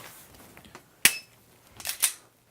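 Dry-fire pistol practice drawing from concealment: a sharp trigger click stands out near, followed a moment later by two fainter clicks and light clatter, with no voices.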